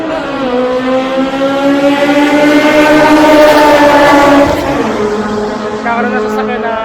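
Race car engines in the pit lane at Clark International Speedway, with a loud, close, sustained engine drone whose pitch climbs and then drops as a car passes, while someone talks over it.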